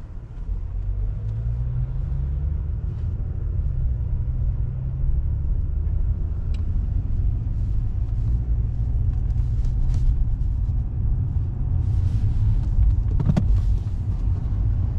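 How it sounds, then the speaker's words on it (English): Continuous low rumble of heavy traffic at a busy city junction by traffic lights, engines idling and pulling away steadily with no voices, a faint brief clatter near the end. "Very busy traffic junction."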